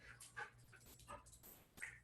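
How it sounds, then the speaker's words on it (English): A dog whimpers and whines in short, excited high-pitched bursts, faint and indoors over a low steady hum, with no talk in between. "Yes, I brought my dog."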